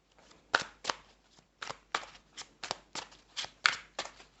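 Tarot cards being shuffled and slapped down, about a dozen crisp flicks and taps in an uneven rhythm, close and fairly quiet, with no talking.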